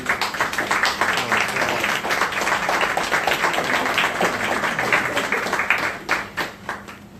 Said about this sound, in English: I want y'all to give my staff a round of applause.